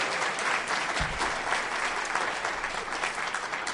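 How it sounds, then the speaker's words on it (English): An employee recognition audience applauds Don Trainer, a dense and even wash of many hands clapping throughout, with no voices standing out. "And a round of applause for Don Trainer again."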